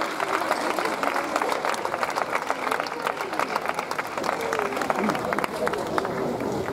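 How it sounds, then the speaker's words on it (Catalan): Applause from an audience for performers at a local festival event in Benissa, a steady crowd of clapping hands with many individual claps standing out, busy and fairly loud, with crowd voices mixed in. "Vull un aplaudiment per tots, però sobretot per ells"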